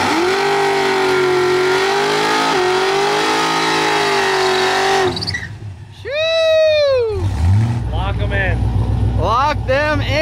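A car with a cammed-out, supercharged LSA engine revs hard and loud at a drag strip, a steady high roar that drops away midway, followed by sharp rising and falling rev sweeps, with people talking over it.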